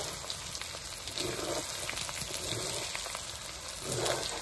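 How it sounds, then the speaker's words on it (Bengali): Meat frying in oil for a home-cooked pulao and meat meal gives a steady, fairly loud sizzling hiss with crackling spits, swelling slightly near the end. "তেল উঠছে, একটু ভাজা ভাজা হয়েছে তো বেশি"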